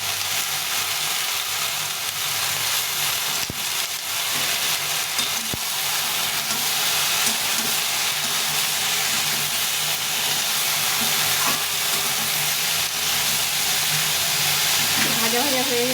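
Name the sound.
frying with salt and turmeric in a pan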